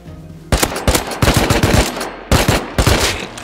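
Loud close-up automatic gunfire from the video game Rust comes in several rapid bursts separated by short pauses, with no talking.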